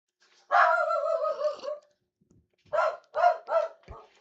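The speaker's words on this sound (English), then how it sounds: "what you barking at?" A dog nearby lets out one long drawn bark, then after a short pause a quick run of four sharp barks, loud and clear against a quiet room.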